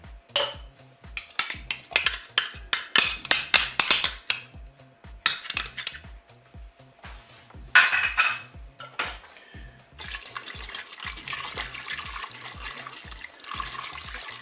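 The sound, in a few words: mixing in the Cookeo pot with a plastic whisk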